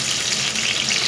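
Onions and green chillies fry in hot oil, giving a steady, dense close-up sizzle with no pauses.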